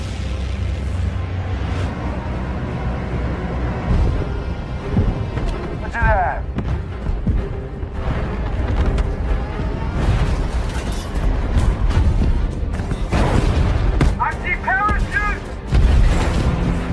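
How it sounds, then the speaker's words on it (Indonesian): Anti-aircraft guns in a war film about American bomber crews fighting the Germans thud in heavy, irregular booms at close range, with a voice talking over the barrage. "banyak sekali senapan anti serangan udara yang menyambut kedatangan mereka seperti apa yang kita lihat di sana"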